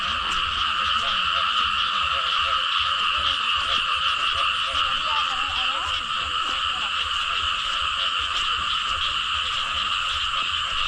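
A dense chorus of frogs croaking continuously at night in rice paddies after heavy rain, loud and steady throughout, with faint voices murmuring low beneath it.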